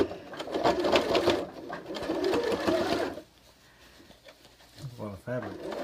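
A sewing machine stitches a Christmas stocking through thick layers of fabric, running loud and steady for about three seconds under a person talking, then stopping to near quiet before speech resumes.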